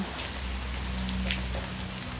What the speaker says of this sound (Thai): ฝนตกหนักเหมือนกันนะ